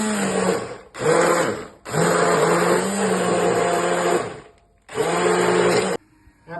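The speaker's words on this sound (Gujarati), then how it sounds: "એમાં આપણે બ્લેન્ડર મારીશું" Hand blender crushing boiled green chickpea ghuto in a pot, running in loud whirring bursts of a second or two with short pauses between, then cutting off near the end.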